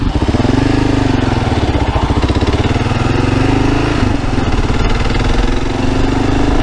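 A 2022 Kawasaki KLR motorcycle engine running loud and close, a steady pulsing single-cylinder thump with a slight rise and fall in revs throughout.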